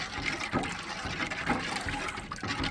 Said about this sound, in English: I'm going to stir it up here